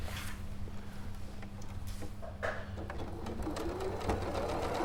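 A domestic sewing machine basting a quilt-cushion seam closed runs in a steady, continuous mechanical whirr of rapid stitching for several seconds, close and alone with no talking.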